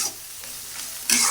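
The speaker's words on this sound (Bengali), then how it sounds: "তো এখন সুন্দর করে একটু মশমশা করে ভাজে নেই" Dried loitta fish crisping in a pan, a steady close hiss of frying that swells louder near the end.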